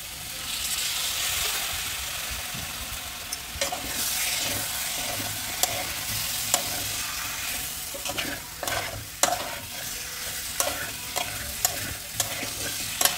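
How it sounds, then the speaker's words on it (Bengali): Steady sizzling and frying of a masala with jackfruit, potato and prawns being stir-fried in a pan, continuous hiss broken by repeated spatula scrapes and knocks, close and alone. "এবার আমি এর সঙ্গেও ভালোভাবে কষে নেব মশলাটা"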